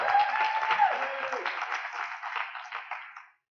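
An audience at a hybrid awards event applauds with brief, muffled clapping, heard as if through a narrow band. A voice briefly rises over it at the start, and the clapping fades away after about three seconds.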